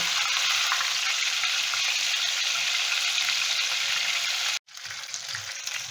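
Thin-sliced chicken strips fry in hot oil with a steady, dense sizzle that fills the whole stretch, broken by a brief gap near the end before the crackling resumes, close and loud with no talk.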